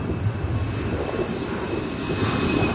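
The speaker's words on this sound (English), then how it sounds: "It's not the wind, it's the airplane." An airplane passes overhead outdoors, a steady broad engine roar that fills the whole stretch at fairly high level with no gaps.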